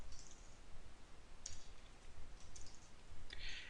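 Soft, irregular clicking of typing on a computer keyboard, a few quick bursts of keystrokes close by and quiet, with no talking.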